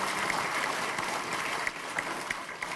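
Applause from the audience at a political party's New Year gathering, a moderate, fairly even patter of clapping with a few sharper individual claps standing out, somewhat distant and no voices heard.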